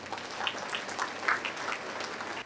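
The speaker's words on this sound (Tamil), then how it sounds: "பெண்கள்லாம் நல்லா கைத்தட்டணும்." An audience at an interfaith Christmas celebration in Trichy claps in a light, brief patter, fairly faint and scattered rather than a full ovation.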